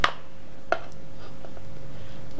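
A stone pestle striking tempeh in a stone mortar (ulek) while making sambal tumpang: two sharp, separate knocks about two-thirds of a second apart, then quiet room hum with faint light taps.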